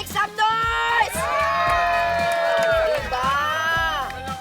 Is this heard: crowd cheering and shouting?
yes